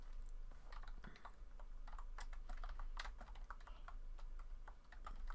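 Computer keyboard typing during a hacking exercise, a steady run of quick, light key clicks with irregular bursts and brief pauses, fairly close and unaccompanied by speech.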